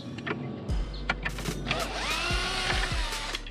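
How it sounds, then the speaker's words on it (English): Electric power drill whirring in short bursts while wiring a subwoofer in a Ford Figo car, the motor spinning up and winding down near and loud amid clicks and handling noises. "using a drill just saves so much time"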